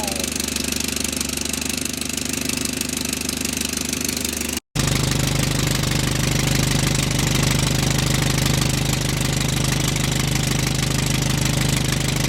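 A Willys Jeep engine runs loudly and close, with a rough, knocking drone that continues almost without a break. A split-second dropout interrupts it near the middle.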